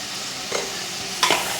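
Masala paste fries in a hot pan with a steady sizzle as red chili masala goes in, stirred with two short scraping strokes over the continuous hiss.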